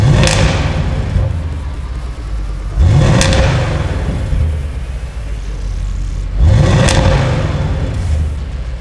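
An Audi RS6 exhaust revs hard three times in a row, each burst rising sharply then settling into a loud, rumbling idle.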